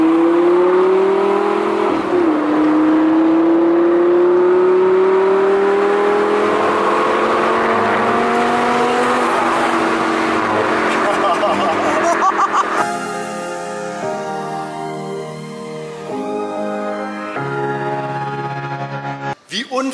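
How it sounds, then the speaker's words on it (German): A Lamborghini with about 540 horsepower accelerates through the Rocky Mountains near Denver, its loud engine note climbing steadily in pitch for many seconds before shifting to a changing, stepped tone. "Was für eine Motorpower. 540 PS oder so hat das Teil."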